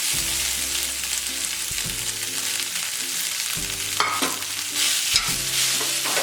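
Mashed elephant yam being stirred with chili powder and salt in a pan, a steady scraping and soft mushy stirring with faint sizzle running throughout, with a couple of sharper scrapes near the end.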